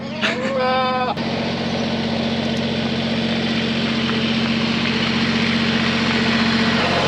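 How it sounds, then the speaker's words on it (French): A tractor engine idles steadily throughout, a constant low rumbling drone, in Australia; a sheep bleats briefly at the start. "ils nous donnent des tracteurs, on n'a jamais conduit ça"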